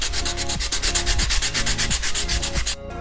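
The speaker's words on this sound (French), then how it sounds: "je vais pouvoir commencer à le poncer" A Jesmonite terrazzo coaster is wet sanded by hand, giving a close, loud, rhythmic rasping scrape, with repeated strokes in one direction at a steady pace.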